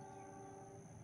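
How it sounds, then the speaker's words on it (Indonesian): Steady low rumble of a passing CC206 diesel locomotive with tonal horn-like bands, constant and fairly distant, no voices. "Masih ada kereta lagi nih, kedengeran dari gemuruh"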